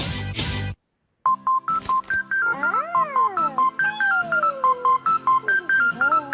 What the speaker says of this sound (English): Oh, is this the ringtone?